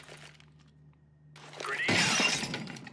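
A molotov incendiary grenade shatters loudly in Counter-Strike: Global Offensive, a bright glass break followed by a whooshing burst of flame after a quieter lead-in.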